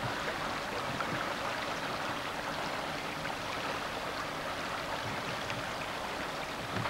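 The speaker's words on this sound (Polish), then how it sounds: "Tam też woda płynie." Floodwater pouring through a breach in a dike during a flood, a continuous rushing, gurgling flow heard steadily at a moderate distance with no voices.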